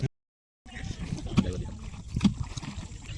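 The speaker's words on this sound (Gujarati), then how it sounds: "આવી રીતે કાકા હોડી ચલાવી રહ્યા છે" Oars dip and splash at a slow rhythm as a small boat is rowed on Zoz Dam, with gentle trickling between strokes.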